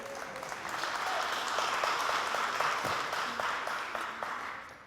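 A live audience applauds a parish contestant at a holiday talent contest, steady dense clapping that swells and holds for several seconds before tapering slightly, with a faint voice underneath.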